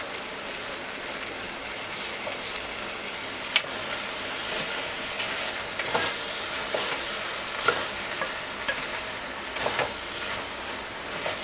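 Brinjal cut into long strips and potato pieces frying with rice in a pan, giving a steady, close sizzle with scattered crackles and the occasional sharper pop.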